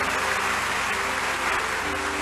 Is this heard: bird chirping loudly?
no